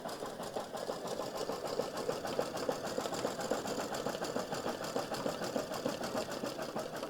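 An embroidery machine stitches tiny freestanding-lace turkey earrings with a fast, even mechanical chatter, steady and close throughout, with no voices.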